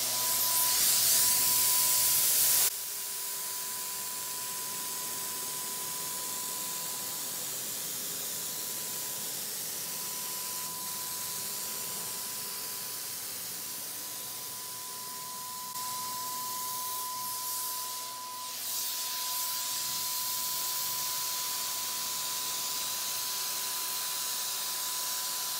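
A Wagner Flexio 5000 paint sprayer spraying paint onto doors, giving a steady, close airy hiss that runs almost unbroken, with a louder burst at the very start.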